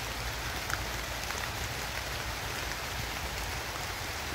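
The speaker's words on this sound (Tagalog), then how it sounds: "Ang kusog ulan. Malakas ang ulan." Heavy rain falls in a dense, steady hiss that stays constant and fairly soft throughout, with no voices over it.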